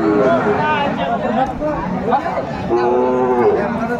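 A Sahiwal bull calf at a busy cattle market moos loudly and repeatedly, with drawn-out lowing calls over steady crowd chatter and people talking nearby.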